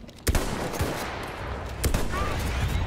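Gunshots in Battlefield 1: two sharp, loud cracks spaced about a second and a half apart, ringing over a busy battlefield background, with little talk.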